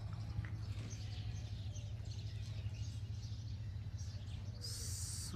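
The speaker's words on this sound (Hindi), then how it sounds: "परिंदों की चहचहाने की आवाज़ें हैं" Birds chirp faintly on a morning outdoors in Dubai, with thin, scattered calls high above a constant low rumble of background noise.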